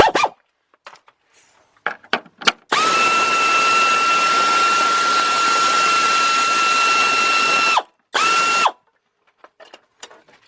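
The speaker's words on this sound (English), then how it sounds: "But let's get that 10 millimeter bolt out of there." A power tool spins out a 10 millimeter bolt during a power steering pump replacement on an Infiniti I30/I35 or Nissan Maxima, with a sustained whirring run of several seconds, a brief second burst, and scattered clicks and clanks around it.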